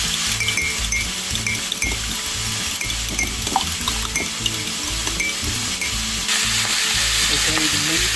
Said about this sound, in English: Now we add in the pork. Fry it out.